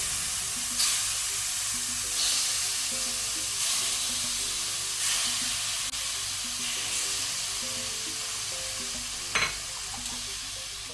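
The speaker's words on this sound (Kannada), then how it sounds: "ಫ್ಲೇಮ್ ಲೋ ಅಲ್ಲಿ ಇಟ್ಕೊಂಡು ತುಂಡು ಮಾಡಿದ ಚಿಕನ್ ಪೀಸನ್ನು ಹಾಕೋಣ" Chopped chicken pieces fry in a pan on a low flame, a steady soft sizzle with a few scattered clinks and stirring taps, alone.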